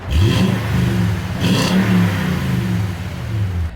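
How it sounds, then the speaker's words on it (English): A deep V8 engine in a 2021 Toyota Tundra pickup roars as it accelerates hard, a throaty exhaust note rising in pitch, loud and close, with a brief shift partway through. "when you put your foot down, the Tundra actually makes a good amount of noise"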